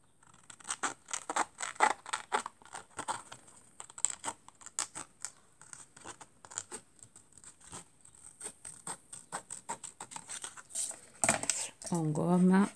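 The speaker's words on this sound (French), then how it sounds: "Là, on découpe." Scissors snip paper in quick repeated cuts while a father's day card is being made, close and clear, with a short burst of speech near the end.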